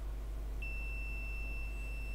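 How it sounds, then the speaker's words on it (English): A Fluke multimeter gives a continuity beep, a single clear, steady high-pitched tone that starts early and holds to the end over a constant low electrical hum. "There's the fluke beep."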